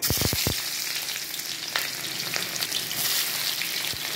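Onion frying in hot oil in a pan, a steady close sizzle opening with a few quick utensil knocks and a couple of later taps, no voices.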